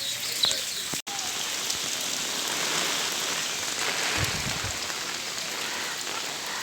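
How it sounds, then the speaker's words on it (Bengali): Heavy rain pours in a village market area of Raidighi as a cyclone approaches, making a dense, steady hiss and patter on surfaces close by, broken by one brief dropout near the start. "দেখতে পাচ্ছি প্রচণ্ডভাবে বৃষ্টি পড়ছে"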